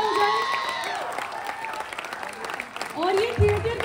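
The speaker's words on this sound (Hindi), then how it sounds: "एक बार जोरदार तालियां हो जाए" Audience clapping during a standing ovation at a Bihar Diwas celebration at Chandigarh University, a dense burst of applause under an announcer's amplified voice, swelling again toward the end.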